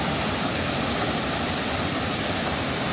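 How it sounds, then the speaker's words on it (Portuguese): Waterfall cascades of rushing water, a dense and constant roar that is loud and near, with no talking. "Tem aqui umas cataratas, umas quedas d'água. O barulho da água é tão intenso"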